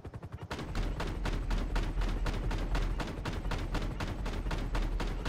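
Machine gun fire in GTA V, a loud sustained burst of rapid, evenly spaced shots rattling on for several seconds after a brief quieter lead-in, close.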